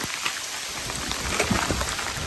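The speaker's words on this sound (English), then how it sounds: "it was amazing to watch this huge rainstorm roll in" Heavy rain from a rainstorm rolling in over open country in Newfoundland, a steady dense hiss of rain falling on surfaces with scattered louder drops, close and continuous.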